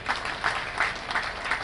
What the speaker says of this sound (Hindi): सांसद जी का जोरदार ताली बजा के अभिनंदन करें